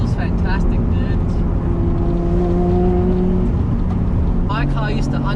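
A 550 HP RB25DET Nissan Skyline R33 pulls hard under boost on a wet road, the engine's steady drone rising in the cabin with a spool-up whine, while someone speaks over it.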